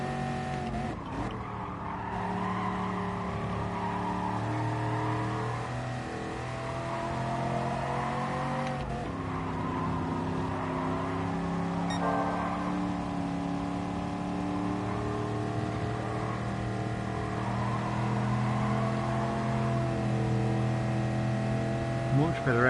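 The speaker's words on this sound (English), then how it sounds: "We sort of drifted the car in. Don't think we got a great exit." Race car engine in the GT Sport video game, drifting and accelerating through a section of S-bends, with sustained loud revving, shifting pitch and brief tire squeal. Someone talks over it throughout.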